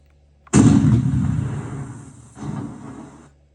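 Simulated main-gun shot from the sound module of an Armortek Tiger RC tank: one sudden loud boom with a long rumbling decay, then a second smaller burst of rumble before fading out.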